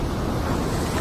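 Raging stormy sea roars in a dense, continuous wash of surf and wind, loud and close with no pause across the brief moment.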